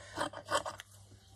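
Scissors snip through craft material while trimming overhang on a flower-themed paper craft piece, a few quick close cuts in a short rhythmic burst, then quiet.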